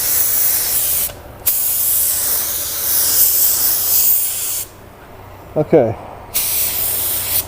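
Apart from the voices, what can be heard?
budget LVLP automotive paint gun spraying paint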